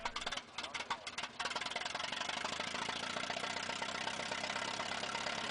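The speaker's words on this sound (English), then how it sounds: "The 1921 International Harvester 8-16 tractor is a remarkable example of early farm machinery" A 1921 International Harvester 8-16 tractor engine runs with a steady, dense mechanical chugging clatter, close and fairly loud, continuous throughout with no talking.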